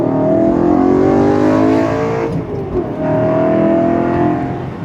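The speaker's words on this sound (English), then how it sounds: "that you can literally hear the engine" A BMW E92 M3 engine revs hard and loud up close, with a brief dip in the middle before the roar builds again.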